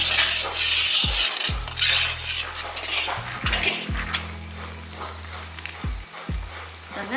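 Sugar syrup for coconut burfi bubbles in a pan while a metal spoon stirs it. A constant frying hiss is repeatedly broken by scraping strokes and clinks of the utensil against the pan.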